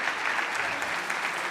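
Audience applause at a short film competition award ceremony, a steady dense wash of many hands clapping at moderate distance, continuous with no voices over it.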